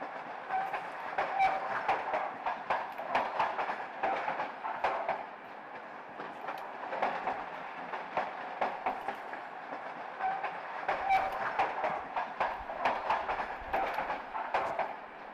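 A train rolls along in the Fallout 4 video game, giving a continuous rumble with rhythmic clickety-clack beats that stay fairly steady and moderately loud throughout.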